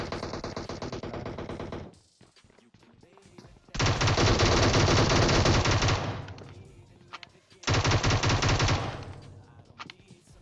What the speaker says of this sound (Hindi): अब मैं प्री फायर देता हूं यार, दो गोली लग भी जाती है